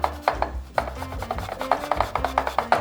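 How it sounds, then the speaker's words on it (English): Fresh ginger grated for a pumpkin pie filling, a quick series of short, close rasping strokes in an uneven rhythm, alone without talk. "Doing about a tablespoon of freshly grated ginger."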